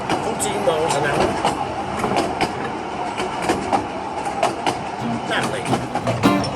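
A Brecon Railway train in Wales rolls along at a slow 14 miles an hour, with a steady rumble and clickety-clack of wheels over rail joints and talk in the carriage over the top.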